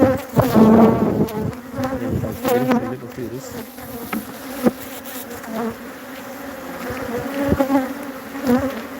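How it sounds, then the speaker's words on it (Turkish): Dense, loud buzzing of many honeybees inside a hive, a continuous swarming hum with scattered clicks and fluttering wingbeats. "bütün arılar burada."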